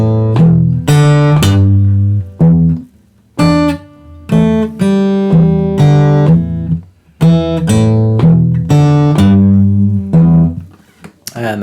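Fingerstyle blues guitar plays with hammer-ons, a loud, clear phrase of plucked notes with bass and melody together, broken by a few short pauses, with no voice over it.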